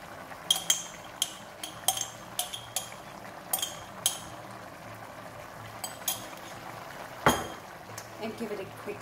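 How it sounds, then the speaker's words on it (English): A utensil stirs Penang chicken curry with broccoli in a pot, producing a series of sharp metallic clinks and scrapes against the pot, close and fairly quiet, with one louder knock near the end. "and give it a quick stir."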